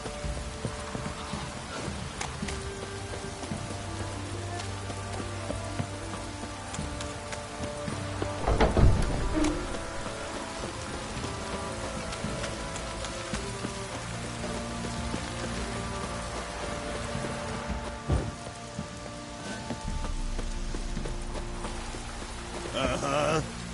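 Steady rain pattering on surfaces, with scattered drips and occasional knocks, and one louder splash partway through.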